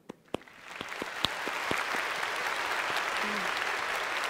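Scattered claps build into steady applause from a seminar audience on carbon trading, starting with a few sharp isolated hand claps before settling into a continuous, moderately quiet wash.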